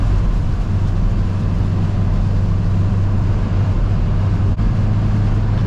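Inside a Ford Tourneo Connect cruising on a rainy highway near 130 km/h at about 2800 rpm, a loud, constant low engine drone and road rumble fills the cabin without pause or talk.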